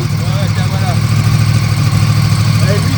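A Yamaha R1 1000 motorcycle idling nearby, a steady low engine rumble held evenly throughout, loud and close, with outdoor background noise.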